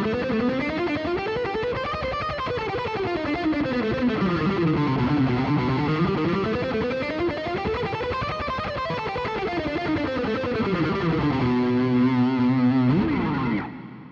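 Fast distorted electric guitar picking runs ascending and descending a minor scale in even waves, ending on a few held notes and a final slide.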